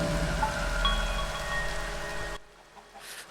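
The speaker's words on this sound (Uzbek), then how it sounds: "Palakat sovuq tushib, yomg'irlar yog'ib ketdi." Minecraft rain pours as a steady, fairly loud hiss for over two seconds, then cuts off abruptly, leaving near silence with a few faint sounds.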